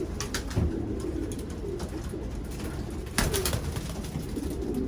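Racing pigeons coo inside a loft, a few soft, throaty rolling calls close by, with brief rustles and louder bursts near the start and about three seconds in.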